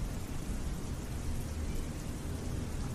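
Steady, dense rain falls outside a house as a cartoon sound effect, a loud, even wash of drops with a low rumble beneath and no voices.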